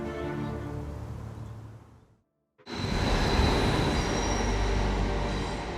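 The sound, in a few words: train on scenic railway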